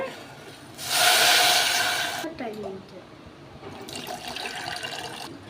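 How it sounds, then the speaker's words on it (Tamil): A burst of water pours noisily into a pan for about a second and a half, then quieter sloshing and a second, softer pour follow, as water is added to semolina to make a sweet. "இதில் ஒன்றரை கப் தண்ணி ஆட் பண்ணிக்கோங்க"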